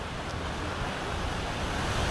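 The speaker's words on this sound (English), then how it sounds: "Fountains and waterfalls" Fountains and waterfalls along Tower Road in Malta give a steady, broadband rush of falling water, loud and unbroken, with a windy wash over it and no voices.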